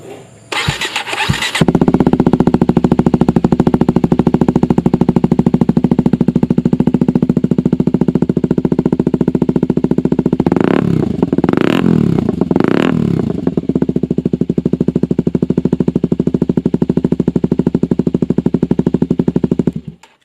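A Kawasaki Ninja 250 SL fitted with an AC Project muffler starts up close by, then settles into a loud, steady idle with a few sharp throttle blips in the middle before returning to a rough, constant rumble.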